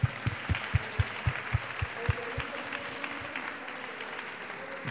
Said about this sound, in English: A round of applause for the professor